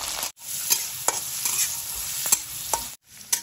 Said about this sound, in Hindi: अब इसमें कटी हुई हरी मिर्च डालेंगे, थोड़ी सी फूला हुआ चना डालेंगे। धीमी आंच में इसे हल्का भून लेंगे आधा मिनट तक।